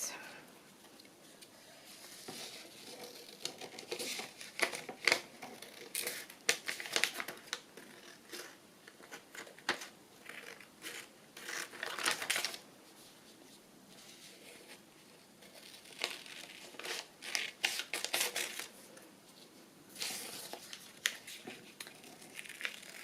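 Scissors snip and crinkle through paper while a sewing journal booklet is made, in short irregular bursts of close, crisp cutting and handling with quiet pauses between.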